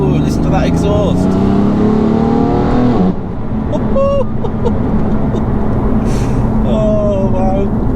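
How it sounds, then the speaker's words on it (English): A 700bhp BMW M4 F82 exhaust roars loud and close, the engine revving and climbing in pitch, then briefly dropping away before surging again with crackles, all under a constant heavy drone. "Oh, listen to that exhaust."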